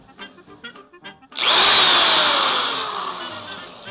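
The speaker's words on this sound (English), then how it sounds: "I'm definitely going to need a bigger drill." A power drill whirs up abruptly and runs loudly and steadily for a few seconds, slowly easing off, after a stretch of quieter knocks and taps.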